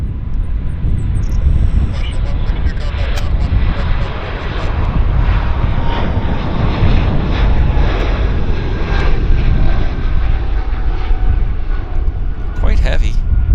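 A heavy airliner rolls down a long runway at Vancouver Airport on takeoff for Toronto, its engines giving a loud, steady, sustained roar that fills the whole stretch with broad rumble and some wind buffeting.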